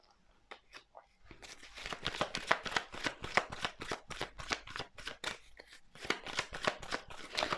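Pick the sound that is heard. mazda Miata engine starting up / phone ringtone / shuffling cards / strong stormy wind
shuffling cards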